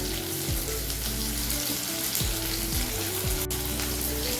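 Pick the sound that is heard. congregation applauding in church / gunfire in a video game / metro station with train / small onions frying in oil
small onions frying in oil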